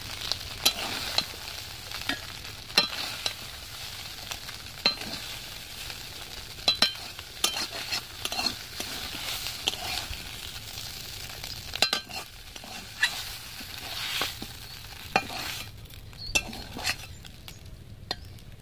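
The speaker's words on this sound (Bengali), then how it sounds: "মাছগুলো আমি ফ্রাই করে নিয়েছি, এবার আমি এগুলো তুলে নেব।" Fried fish for a village-style omelette is lifted out of hot oil, with a continuous close crackling sizzle and many sharp clinks and scrapes of a metal utensil against the pan throughout, no voices.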